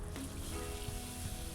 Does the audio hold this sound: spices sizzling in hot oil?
yes